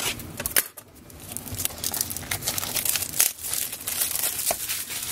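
Plastic wrapping crinkles and tears as it comes off a Japanese Pokémon card box, a close, busy run of crackling rips with a brief pause near the start.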